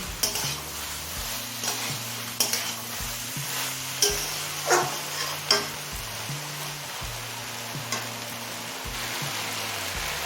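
Colocasia stolons and chicken are stirred in a pan, a spatula scraping and knocking against the metal in repeated strokes over a soft sizzle, with a few sharper clinks standing out, no talk.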